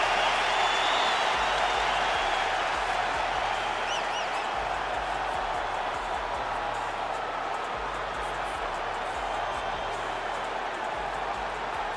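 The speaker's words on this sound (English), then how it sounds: "Islam Makhachev, ready to make a statement in front of this capacity crowd here tonight." A capacity arena crowd in the UFC 5 video game, before a lightweight championship fight, roars as a steady, dense wash of cheering that holds at an even level throughout, with a low rhythmic thump running underneath.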